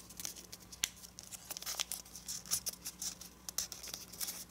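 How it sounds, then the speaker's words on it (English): Paper is folded and creased into an origami dragon, making a close, soft, irregular series of crinkles, rustles and sharp creasing taps with no talking. "And now let's fold this edge to this crease."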